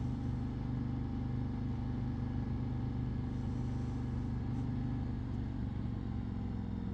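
A 2024 Harley-Davidson Street Glide in sport mode gives a steady, low engine drone with a layered rumble and road and wind noise, heard at a constant level without sharp revving peaks.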